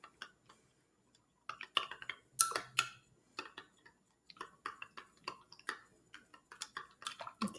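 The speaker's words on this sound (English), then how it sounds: "So I'm stirring, stirring," Heated milk with vinegar is stirred in a container, giving light irregular clinks and taps of a spoon against the sides, quiet and close, with short pauses between strokes and no talking.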